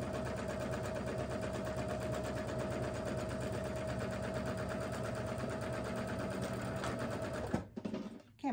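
A sewing machine stitches quilt block pieces together in one long continuous run, a close, steady buzzing whir with fast regular needle rhythm that stops abruptly near the end, followed by brief handling noise.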